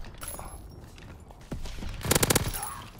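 Thompson M1928 submachine gun fire in Call of Duty: a short rapid burst of close, loud shots near the end, after quieter scattered game noise.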